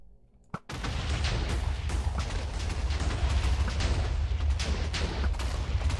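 Continuous dense gunfire from enemies being shot in a Minecraft adventure map, a rapid sustained barrage starting after a brief quiet moment and holding loud and steady throughout.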